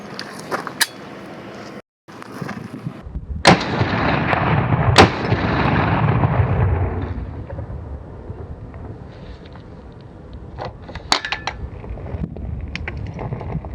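A PSA KS-47 pistol firing Red Army ammunition outdoors, a few sharp, loud gunshots spaced irregularly with booming echoes and some wind noise, without speech.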